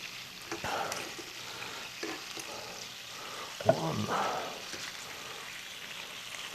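Chicken legs and wings fry in a pan, giving a soft, steady sizzle with a brief louder burst of crackling and clatter partway through as more pieces go in.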